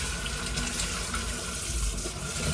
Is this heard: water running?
yes